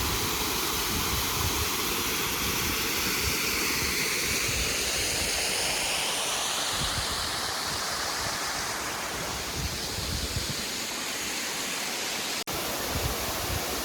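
A waterfall pours into a pond in a scenic mountain area of Kaohsiung, Taiwan, making a loud, continuous, broadband rushing roar that stays steady and close throughout with no voices.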